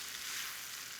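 Prosecco poured into a hot pan, hissing and sizzling steadily and loudly at close range as the wine hits the heat, with no talk over it.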